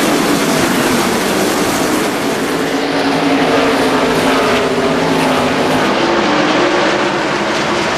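Pack of NASCAR race cars thundering around Richmond in the 2002 Pontiac Excitement 400, a steady loud engine roar that stays dense and continuous throughout with no talk.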